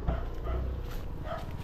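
Dogs bark and yip nearby in short bursts over a rumbling background.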